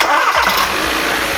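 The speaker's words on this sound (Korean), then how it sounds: "딱 시동 한번 걸었는데" An old car's engine cranks and catches right after an oil change, then settles into a steady, loud mid-pitched idle nearby, with no voices.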